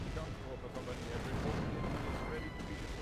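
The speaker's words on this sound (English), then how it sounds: "Artillery on that fuel point." Artillery barrages from the real-time strategy game Company of Heroes during a 2v2 match, a dense continuous rumble of distant booms and shelling. A commentator talks over it throughout.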